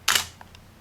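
A camera shutter fired remotely by a Cactus V5 wireless flash trigger: one sharp, close mechanical snap followed by two faint softer clicks as the mechanism resets, in a quiet room.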